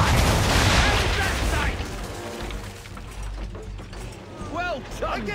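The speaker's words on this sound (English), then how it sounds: "Bring her around broadside, and when all guns are on target, call fire." Ship cannons firing a broadside during naval target practice in Assassin's Creed III, heavy booms rolling out loud at the start and fading into a long rumble, with shouted voices and crew noise afterward.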